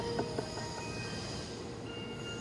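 Train pulling into Kaneyama Station in Nagoya, a steady low rumble of rolling railcars with faint wheel squeal and a few light clanks, heard from the platform at a moderate distance without voices.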